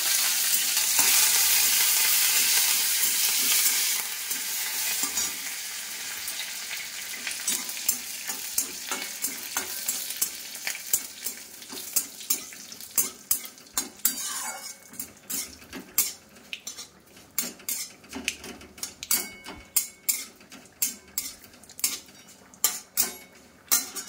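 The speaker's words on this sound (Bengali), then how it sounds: "তো মশলা ভাজা হয়ে গেছে" Spices frying in a pan for a Bengali dal, with a steady sizzle at first giving way to repeated metal-on-pan scrapes and clinks of stirring, close and fairly loud, with no talking.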